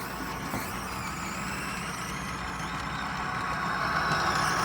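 Old reel-to-reel tape recorder running on its big drive motor, a steady low mechanical hum and whir with faint ticking, continuous and close.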